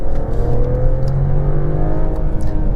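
Mercedes-Benz E450 4Matic All-Terrain, 2021, engine revving up steadily as the paddle shifters drop it down several gears, a loud, continuous close-up drone that rises and holds with no talking.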